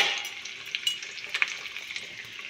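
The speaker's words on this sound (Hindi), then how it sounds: "जब ये अच्छे से भुन जाएगी तभी मैं इस छौंके को डालेंगे इस पालक में।" Spices fry in hot oil for a tempering to pour into a rustic spinach dish, giving a continuous bright sizzle with small crackles and pops scattered throughout, close by and fading slightly.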